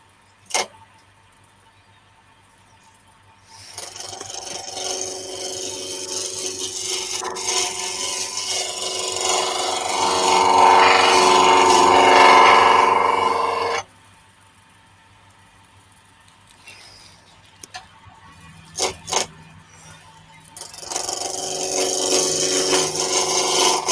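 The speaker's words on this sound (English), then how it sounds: "Don't push so hard against the timber with the bevel. It's a gliding cut." A chisel takes a gliding cut across timber, producing a long, sustained scraping rasp that swells in the middle, breaks off, then resumes after a short pause, close and loud with no one speaking.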